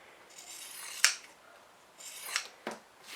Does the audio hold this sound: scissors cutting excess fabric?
yes